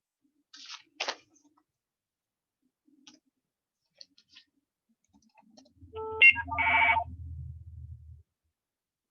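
A mobile phone gives off a short melodic ringtone in an otherwise quiet room, a brief burst of bright electronic tones after a few scattered clicks, with a low hum underneath and no talk.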